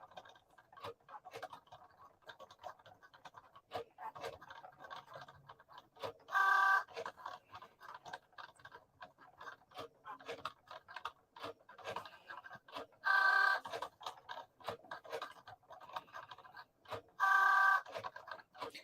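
A Cricut Joy cutting machine cutting a design makes quiet, irregular ticking and scratching. Three short, louder motor whirs break in at spaced intervals.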